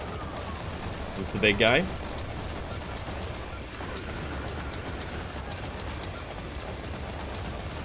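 In the action roguelike shooter Earl vs The Mutants, a dense wash of gunfire and chaotic combat noise plays steadily throughout, and a voice speaks briefly over it.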